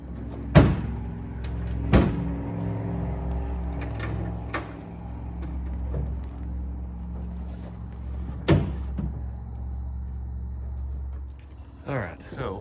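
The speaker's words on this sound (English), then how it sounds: "So let's see how it shuts." Metal clunks and bangs come from a 1999–2006 Chevy Silverado tailgate being tried shut with new latch hardware. There are a few sharp impacts spaced apart over a low steady rumble, and a person talks in between.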